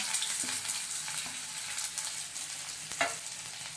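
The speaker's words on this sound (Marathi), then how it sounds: "मोहरी टाकली थोडे जिरे टाकले मोहरी जिरे चटडायला लागलेले आहेत कांदा टाकला" Mustard seeds, cumin and chopped onion fry in hot oil for a potato-onion poha tempering, a steady broadband sizzle with faint spoon scrapes and a couple of sharper crackles, close and alone without talk.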